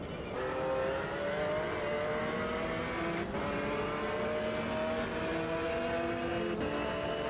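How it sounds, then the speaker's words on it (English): Racing car engines in Automobilista 2 roar loud and close, holding a sustained high-revving drone with slight pitch drifts and two brief dips as the driver shifts gears. "Very loud cars."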